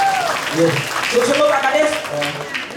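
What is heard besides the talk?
audience applause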